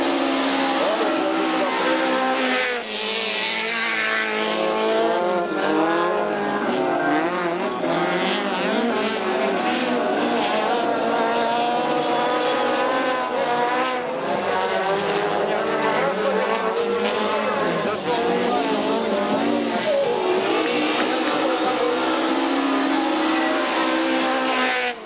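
Racing car engines roar continuously around a track in Minsk, high-pitched and whining as they rise and fall through gear changes, loud and steady throughout.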